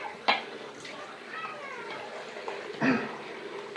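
Water runs from a tap while a shaving brush is wetted for lathering soap, a steady moderate splashing hiss with a couple of louder splashes, under soft talk.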